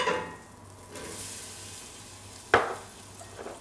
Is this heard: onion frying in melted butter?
yes